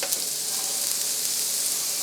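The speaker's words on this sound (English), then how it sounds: "You hear that sizzle?" Cabbage and sausage frying in a pan, giving a bright, steady sizzle with faint crackles. Close and continuous, heard alone without any talk.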